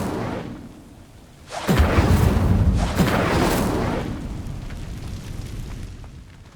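A whooshing burst of spell fire in Hogwarts Legacy erupts loud and close, then a sustained roaring crackle of dry vines burning that slowly fades.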